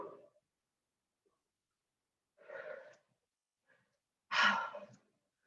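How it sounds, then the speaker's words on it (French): Two soft, forceful exhales sound during a home cardio and strength workout, close to the mic with quiet pauses between them, plus a faint breath at the start. "Je souffle. Allez, soufflez."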